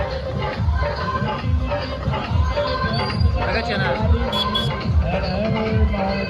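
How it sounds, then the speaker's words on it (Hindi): A crowd of kanwariya pilgrims at Rahika chowk, a dense bustle of overlapping voices and movement at street level, with a nearby speaker talking over the babble. "ये पूरा रहिका चौक और रहिका चौक पर भीड़ देखियो"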